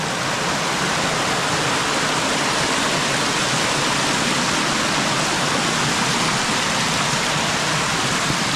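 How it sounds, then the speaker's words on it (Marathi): Heavy monsoon rainwater in the Konkan pours through the doorway of an old house, a loud, steady rushing wash with no break across the whole stretch. "बघा आमच्या दरवाजातून किती पाणी वाहत आहे ते बघा"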